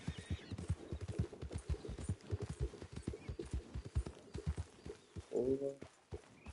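A horse in Red Dead Redemption 2 runs off, its hooves pounding out a quick, regular rhythm that is fairly close, followed by a short sharp sound near the end.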